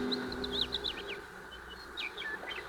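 Birds chirping and calling in a radio drama, several bright tweeting calls in short bursts at the start and again near the end over a steady background hiss, with no one talking.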